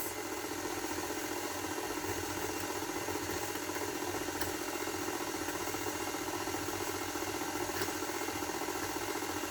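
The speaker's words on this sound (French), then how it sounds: "on va mélanger et pétrir tout doucement sur la première ou la deuxième vitesse" A stand mixer kneads Christmas shortbread dough on a low speed, giving off a steady mechanical whir and a fine rattling hum that stays constant and moderately loud with no voices.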